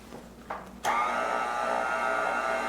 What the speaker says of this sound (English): Now I like to use the stand mixer because it makes my life a lot easier.